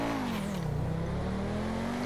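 A luxury sports car in GTA 5 accelerates hard, its engine tone sweeping down and then climbing again in a steady, loud, close roar that fills the whole moment with no voices.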